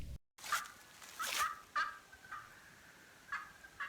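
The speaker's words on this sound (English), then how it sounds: "Hear them turkeys? I hear them, yep." Distant wild turkeys gobble in several bursts, faint rattling calls repeating irregularly across a quiet woodland background.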